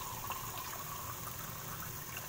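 Water poured into a cooking pot of mussels, a steady, continuous splashing fill that runs unbroken and fairly quiet from start to finish, with no talking over it.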